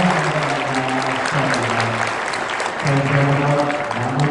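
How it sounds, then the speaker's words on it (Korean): A ballroom audience at the 2017 KPGA Genesis golf awards ceremony in a Seoul hotel gives loud, sustained applause over a steady tonal background, clapping filling the room from start to finish. "다시 한번 뜨거운 박수 부탁드리겠습니다"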